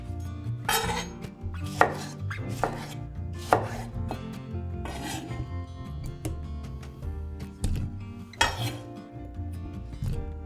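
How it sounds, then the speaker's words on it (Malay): A knife roughly chopping tomatoes on a cutting board, a run of irregular sharp thuds and knocks close up, mixed with faint clinks of kitchenware. "Tomato potong kasar."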